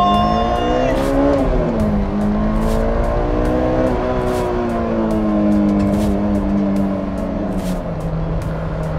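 A Honda S2000 with a 240 hp engine revs toward 9000 RPM, a loud, close, harmonic whine that rises, dips and climbs in pitch over several seconds, with a voice faintly underneath.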